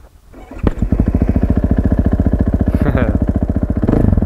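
A cold motorcycle engine, a wheelie bike, cranks and catches after a brief start-up, then settles into a steady, close, loud idle with an even pulsing beat; a faint voice may sit underneath.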